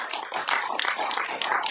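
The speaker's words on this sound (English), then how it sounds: "Just to stop clapping now, though." A council meeting audience applauds, a steady patter of many hands clapping at a moderate distance, with no talk over it.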